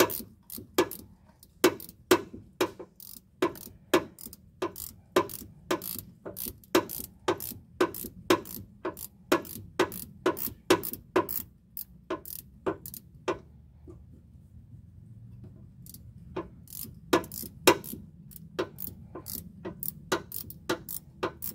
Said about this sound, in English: Can't remember the last time I used a 12 mil ratcheting.